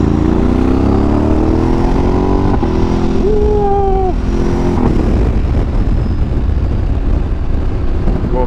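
A Ducati DesertX adventure motorcycle engine drones loudly and steadily with a brief rising rev partway through, heard up close over road and wind noise.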